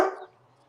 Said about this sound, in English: Don't make her bark anymore.